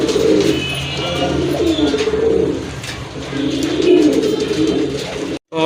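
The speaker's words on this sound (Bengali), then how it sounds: "কারণ এটা সিঙ্গেল কবুতর প্রচুর ডাকে" A single pigeon coos loudly and close by in repeated throaty bouts, with a brief pause between phrases.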